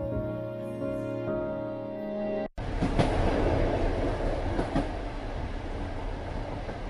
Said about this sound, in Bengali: হাওড়া থেকে 6:30 মেদিনীপুর লোকাল ধরে যাচ্ছি বাগনান